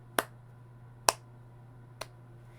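Three slow, sharp hand claps ring out roughly a second apart, each one isolated and crisp, the last slightly softer, over a steady low electrical hum.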